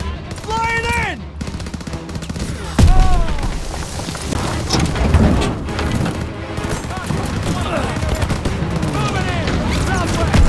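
Mounted half-track machine gun in the Call of Duty WWII mission Stronghold fires dense, sustained bursts amid booming battlefield gunfire, with shouted voices over the din.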